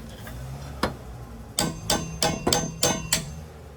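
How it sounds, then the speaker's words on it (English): A hammer strikes a pry bar to pop the rear axle out of a C5 Corvette rear end: one strike, then a quick run of five sharp metallic blows, close and loud, each ringing briefly with no talk. "Hammer."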